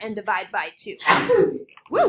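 A single sharp sneeze bursts out mid-sentence during a math lesson, loud and close, between stretches of a teacher's speech.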